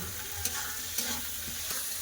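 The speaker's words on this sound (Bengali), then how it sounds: "এবার ভালো করে ভেজে নেব" Prawns fry in a pan with onion, turmeric and a little salt, a steady close sizzle broken by a few sharp stirring scrapes at regular intervals.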